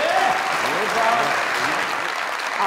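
An audience claps in a loud, dense round of applause that continues steadily while a voice speaks over it.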